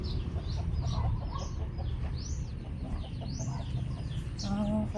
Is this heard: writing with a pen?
no